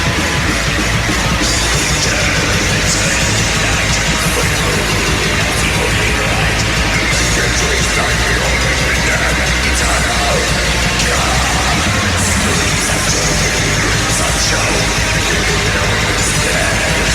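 Dense, loud black metal track with a continuous wall of distorted guitars, pounding drums and harsh shouted vocals throughout.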